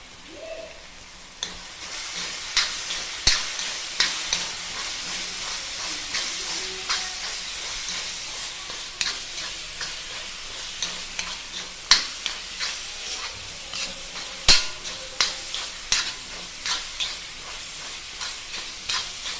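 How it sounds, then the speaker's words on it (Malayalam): Fried onions being stirred into a pot of dum biryani, giving a steady sizzling hiss with repeated scraping clicks of the spoon at an irregular rhythm, close by and fairly quiet, with no talking. "ആ ഉള്ളി നമുക്ക് ഇതിലേക്ക് ഇട്ട് കൊടുക്കാം"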